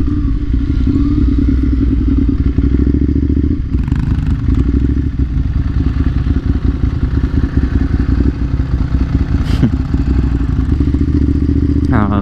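A Ducati Monster 796 motorcycle riding on the road near Laguna Seca, a loud, steady engine drone with wind rush and occasional thumps and clatter, close and continuous throughout.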